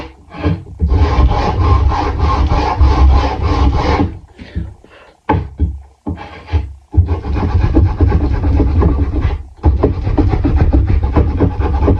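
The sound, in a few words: small sander rubbing over wooden DIY valentine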